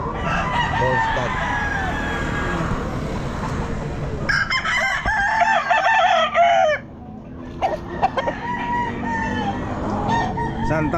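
Roosters crow again and again at the Santa Maria pet market on a Thursday, with loud, overlapping calls from several birds over a steady crowd and market din.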